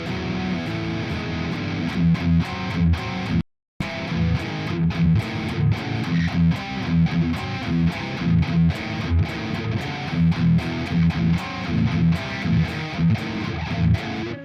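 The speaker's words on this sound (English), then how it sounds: "Heavy riffing." Heavily distorted 8-string guitar riffing through an OVERLOUD TH-U amp simulator on iOS, chugging palm-muted rhythm with punchy accents, loud and continuous apart from a brief dead stop early on.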